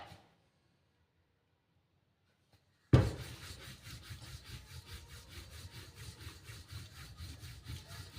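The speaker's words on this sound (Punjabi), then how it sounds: "ਇਹਨੂੰ ਹਲਕੇ ਹਲਕੇ ਹੱਥਾਂ ਨਾਲ ਬੇਲ ਕੇ ਤਿਆਰ ਕਰਾਂਗੇ ਵੀ ਜ਼ਿਆਦਾ ਪ੍ਰੈਸ਼ਰ ਨਹੀਂ ਪਾਉਣਾ" After near silence, a wooden rolling pin starts working radish-stuffed paratha dough, making steady rhythmic rubbing and rolling strokes, moderately loud and close, continuing to the end.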